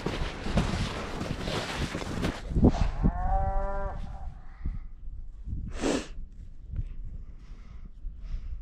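A cow on a farm in cold, windy weather lets out one loud, drawn-out moo partway through, with wind buffeting the microphone and scattered outdoor bumps around it.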